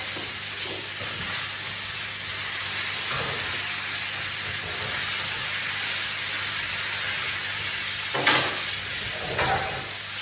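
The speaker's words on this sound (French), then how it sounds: "Je vais aller tourner mes courgettes." Zucchini sizzles steadily in a hot pan while being stirred, a continuous close frying hiss with a few scraping stir strokes, no voices.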